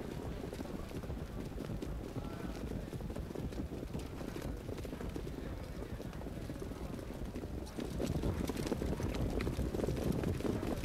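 Hooves of harness-racing trotters drum at the start of a ten-horse trotting race at Meadowlands, a dense rumbling clatter under steady wind-like noise that grows louder toward the end.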